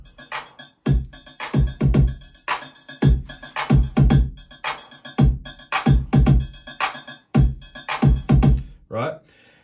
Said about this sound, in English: So what I've got is a basic beat coming out of the vector,